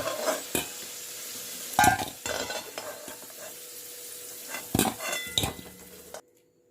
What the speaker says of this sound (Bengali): আলুগুলো ভেজে নিয়েছি, এবার আলুগুলো উঠিয়ে নেব।